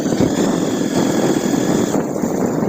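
A motorbike engine drones steadily while riding along a rain-damaged rural road, a continuous mid-level hum mixed with wind rush and no talking.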